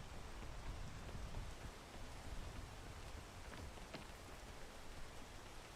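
Steady tropical rain hisses evenly in a video game, a soft continuous patter with no voices and only faint scattered drop ticks.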